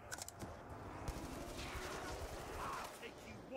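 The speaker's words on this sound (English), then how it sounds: "This gun's taking a lot of bullets to kill someone." Gunfire in Black Ops II Zombies comes as bursts of rapid shots, fairly faint, under a player's talking.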